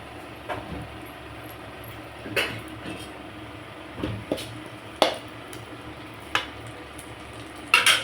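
Cumin seeds sizzling in hot oil for a Tamil mushroom gravy, a soft steady crackle with scattered spoon scrapes and pan clinks at irregular intervals.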